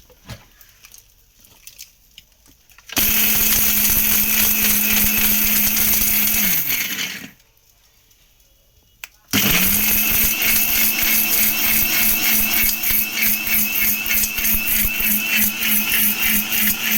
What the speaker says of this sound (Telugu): ఈ మిక్సీ జార్కి దీన్ని అటాచ్ చేసి మనం గ్రైండ్ చేసేసుకోవడం